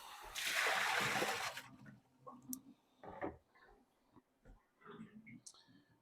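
Water dumped out in a kitchen while cooking veal parm gives a loud rushing splash for about a second, followed by scattered clinks and soft clatter.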